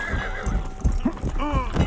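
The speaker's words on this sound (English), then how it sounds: "Let's get on his horse." A horse in a video game whinnies loudly while its hooves clip-clop in a quick, close rhythm through a short burst of game noise.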